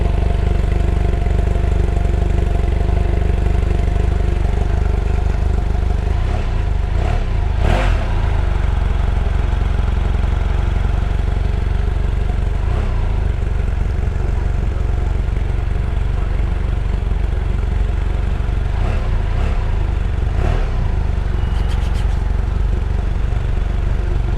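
BMW F800GS Adventure motorcycle engine idling steadily and close by, with a constant low rumble broken by a few brief throttle blips partway through.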